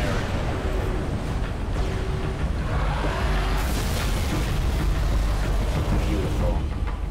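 Rumbling booms and bursts of explosions in the Halo 3 video game, like fireworks, churning continuously through the whole stretch at steady loudness with game noise around them.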